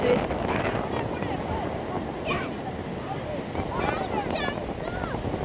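Sea waves washing onto the shore at dusk, a steady broadband roar with wind buffeting the microphone, and voices talking over it throughout.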